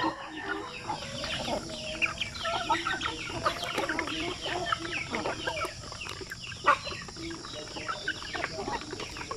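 Free-range chickens in an outdoor range area cluck and chatter continuously, with several birds overlapping near and farther off and an occasional louder squawk standing out.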